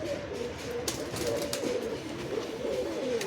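Giribaj pigeons coo softly at a pigeon sale, a low burbling call repeating through the moment, moderately close with faint background activity and no clear talk.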